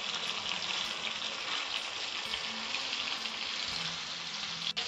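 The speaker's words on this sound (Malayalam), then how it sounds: "അതിൻ്റെ പുറത്തേക്ക് നമ്മൾ പുരട്ടി വെച്ചേക്കുന്ന മീൻ വെച്ച് വറുത്തെടുക്കുകയാണ് നമ്മൾ ആദ്യം." Marinated fish frying in hot coconut oil with a few curry leaves, giving a steady, close, dense sizzle and crackle that continues evenly throughout, with a faint clink near the end.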